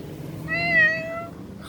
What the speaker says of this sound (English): Oh my God, it's a cat.